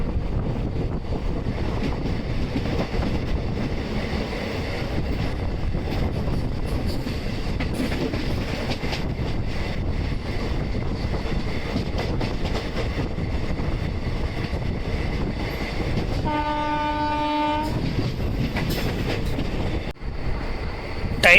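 The Nilgiri Express rolls along with a steady rumbling rattle and wind rush, and a loud, sustained horn blast sounds near the end over the running noise.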